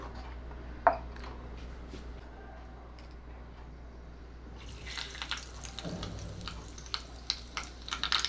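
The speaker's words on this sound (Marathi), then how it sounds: "मोहरी घातली मोहरी तडतडली की उडदाची डाळ हिंग घालते" Mustard seeds crackle and pop in hot oil while a coconut-free chutney tempering is made; scattered sharp pops build up in the second half over a steady low background hum.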